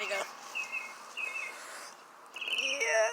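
Small birds give brief high chirps outdoors, a few scattered calls with a louder burst near the end, over faint background noise.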